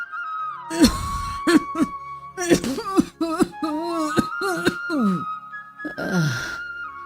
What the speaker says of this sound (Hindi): इतना जोर जोर से ना खांसो